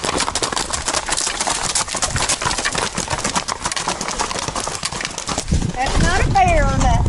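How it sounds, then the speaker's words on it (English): Horses' hooves clip-clop on a hiking trail at Greenbo Lake, a quick uneven patter of steps close by, with people talking over it and a short whinny-like call near the end. "Looks like we got some people on some horses."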